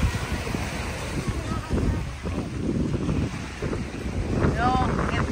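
Strong wind buffets the microphone aboard a small boat at sea under dark, stormy skies, with the rush of waves throughout, a loud continuous roar and a voice speaking faintly beneath it.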